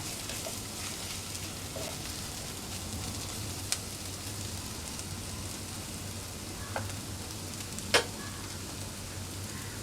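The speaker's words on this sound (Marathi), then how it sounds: "मिक्स करून घेऊया। सगळ्या मसाल्याची कोटिंग झाली पाहिजे बटाट्यावर।" Spiced potatoes and capsicum sizzle and fry in a pan for shimla batata bhaji, a steady close hiss with a few soft spoon scrapes and clinks as the mixture is stirred.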